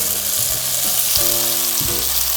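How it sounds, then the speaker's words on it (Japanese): Yakisoba noodles fry in about two tablespoons of oil until crisp, a loud, close, continuous hiss and crackle with faint tonal music underneath. "この焼きそば用の麺が表面がカリッとするぐらい焼いていきます"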